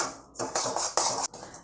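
Semolina and sugar being stirred in a pan for a quick prasadam, giving scraping, clinking strokes of a spoon against metal in a few uneven bursts, close and fairly quiet, with no voices.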